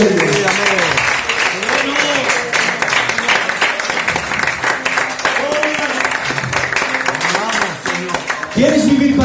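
A church congregation in Corella claps steadily together for several seconds, a dense, sustained burst of applause under voices.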